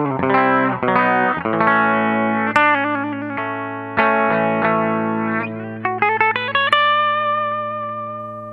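Clean Hagstrom Swede electric guitar with its tone filter bypassed, picking a series of ringing chords and single notes with a touch of reverb, clear and close with no talk.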